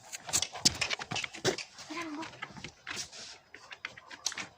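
A dog panting and whimpering close by, with short breathy bursts and a brief whine, in a dog agility jumping session, mixed with scattered movement noises.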